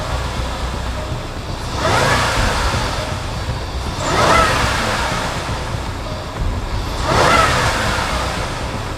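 A supercharged Range Rover engine with 216,000 miles and a knocky fault revs three times. Each rev is a broad, rushing swell that rises and fades back to a steady idle, fairly loud and close.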